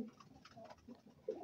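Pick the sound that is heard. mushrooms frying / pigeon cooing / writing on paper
pigeon cooing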